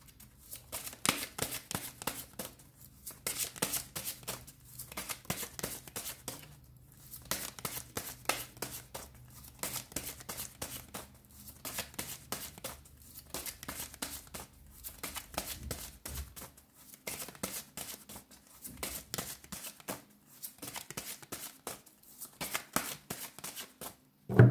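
Tarot cards are shuffled over and over in crisp, rapid riffling bursts with brief pauses between them, close and quiet, with no talking.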